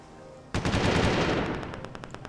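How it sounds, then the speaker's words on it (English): Rapid machine gun turret fire from an airship in the game Windforge bursts in suddenly after a quiet moment, a dense, loud stream of shots that thins into distinct separate bangs toward the end. "I've got machine gun turrets here in the side"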